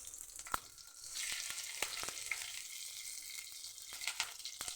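Curry leaves and halved green chillies sizzle in hot oil as a tempering for bread idli, a steady crackling fry with sharp pops and spits throughout.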